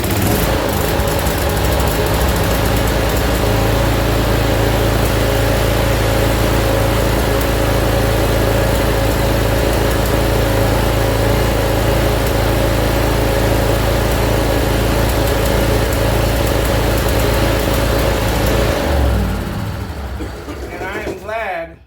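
A zero-turn mower engine runs loudly and steadily at close range, a rough mechanical drone that continues until it winds down near the end.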